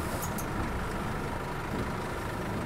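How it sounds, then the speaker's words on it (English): A city bus in The Bus video game gives a loud, steady whooshing and rumbling sound of brakes and retarder, continuous and close, with no talk. "Now you can hear the brakes and retarder extremely loud."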